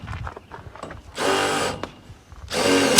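Power drill driving screws into aluminum channel to fix new plastic on a farm, two loud sustained whirring bursts close by, with quieter handling noise before and between them.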